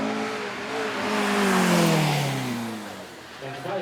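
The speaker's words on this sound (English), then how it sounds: "The Atom then got a 2 litre turbocharged engine, 320 horsepower" A lightweight Ariel Atom race car with a 2-litre turbocharged engine swells in loudness as it passes on a track, its engine note sweeping downward, then fading away.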